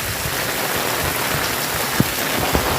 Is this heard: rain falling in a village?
yes